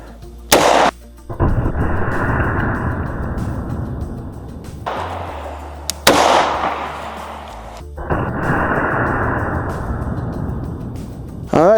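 9mm pistol with a 3.1-inch barrel, firing Liberty Civil Defense and then Speer Gold Dot rounds, gives two sharp loud shots followed by long rumbling reverberant tails that ring out outdoors for several seconds.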